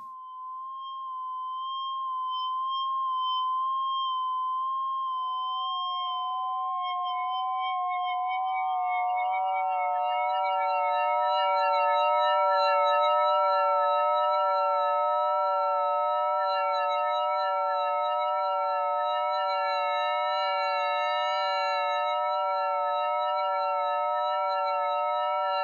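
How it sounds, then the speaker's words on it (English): Synthesizer horror atmosphere of layered atonal tones that enter one by one and swell, with cutoff modulation adding a steady flutter to the sustained, eerie drone. "assign it to the cutoff so that it's actually going to have a little bit of a fluttering effect"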